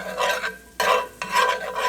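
Garlic cloves cooking in butter in a pan, rough scraping strokes of a utensil over a soft sizzle, three or four close bursts with short pauses between.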